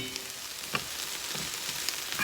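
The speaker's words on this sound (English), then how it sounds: "Veggies frying up." Vegetables frying in a pan for a low-carb keto dish give a steady, moderately quiet sizzle with faint crackles and a few soft pops, heard alone.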